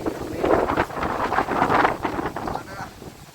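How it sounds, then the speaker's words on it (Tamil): Wind blows across open farm fields outdoors, a steady, fairly loud gusting rush buffeting the microphone for the whole stretch, with no talking. "காற்றுலாம் இருக்குது."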